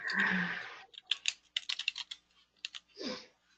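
Rapid clicks of typing on a computer keyboard come in short bursts, set between brief rustling and breathy noises up close.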